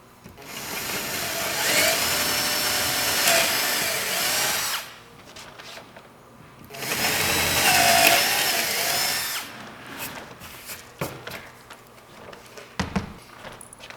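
A power drill enlarges a hole to 7/16 inch in two long whining bursts of a few seconds each, with quieter handling noises and clicks between them, close by and alone without talk.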